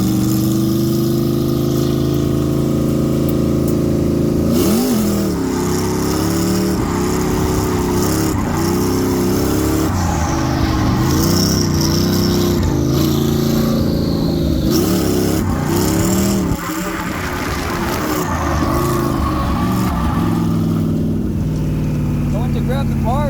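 A drift car on its last laps of worn tires and low fuel at a track event, its engine loud and close, rising and falling through repeated hard revs with a near-constant roar.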